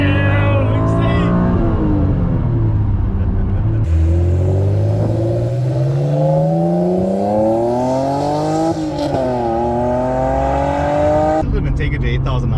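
A Honda NSX engine revs and pulls hard through the gears, its VTEC pitch climbing and dropping with each shift, loud and close from inside the car on a Durban drive, with people talking over it.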